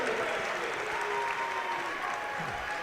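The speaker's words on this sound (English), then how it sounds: "Crowd goes wild." Applause and cheering from a basketball game crowd, a dense, steady wash of clapping and shouting heard from within the stands, continuous throughout with a faint voice buried underneath.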